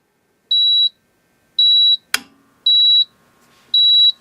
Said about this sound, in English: When I turn on the machine, you'll hear a series of 7 beeps.